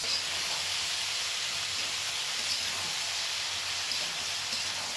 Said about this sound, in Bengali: তারপর একটু ভেজে নিয়ে এর মধ্যে কেটে রাখা সমস্ত সবজিগুলো দিয়ে দিলাম।